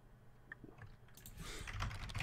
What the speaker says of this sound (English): Boss is typing.